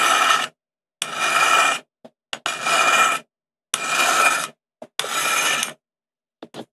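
A metal file sharpens the pick of an ice climbing tool in five steady, close rasping strokes, each lasting under a second with silent gaps between, plus a few faint ticks; no talking.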